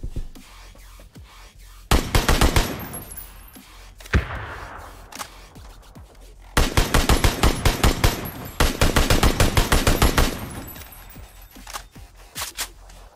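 Bursts of automatic rifle fire in PUBG, sharp rapid volleys in several clusters separated by quieter gaps, close and loud with no speech over them.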